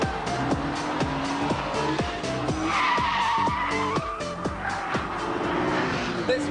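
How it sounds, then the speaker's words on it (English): Honda NSX sliding in oversteer through the tight Pembrey circuit hairpin, tyres squealing loudly over a revving engine, with rapid gear-change-like pulses and the skid rising and fading across the clip. "where the Honda just powers in and then, whoa, what bit of oversteer"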